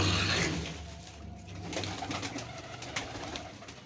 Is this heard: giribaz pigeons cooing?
yes